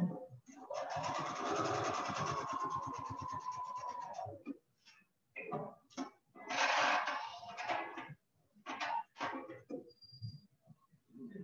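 A sewing machine stitching fabric runs in a long steady burst of rapid stitching, then in several shorter start-stop runs with brief pauses between them, close and fairly loud.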